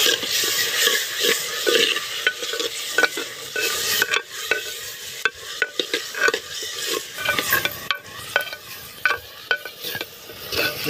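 Tomatoes dropped onto onions frying in a pan over a wood-fired stove for fish curry, giving a steady close sizzle with frequent scraping stirs and clinks of a spoon against the pan.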